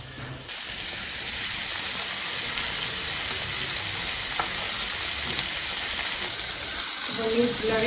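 Fish frying in a hot pan, the pieces left unstirred, gives a steady, broadband sizzle that runs through the whole stretch at an even level. A few faint clinks and soft background sounds sit beneath it, and no one speaks.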